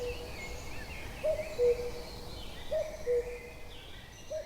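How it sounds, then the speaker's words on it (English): A bird calls in a forest, giving short, spaced whistled notes that repeat at intervals, moderately loud and slightly echoing over a soft, steady background hum. "The call echoes through the forest."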